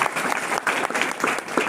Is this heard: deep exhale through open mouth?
no